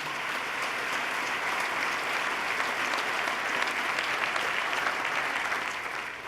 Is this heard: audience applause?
yes